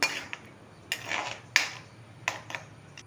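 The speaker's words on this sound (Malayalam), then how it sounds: "പിഴിഞ്ഞ് വാരി വെച്ചിരിക്കുന്ന സോയാബീൻ കൂടി ചേർക്കുകയാണ്" Squeezed soya chunks are stirred into masala in a pan, with scattered metal clinks and scrapes of a spoon against the pan over a quiet background.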